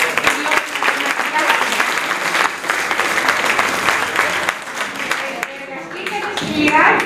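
Warm applause from an audience at a book presentation in Greece, dense clapping from a crowd that swells and fades over several seconds with a few voices mixed in.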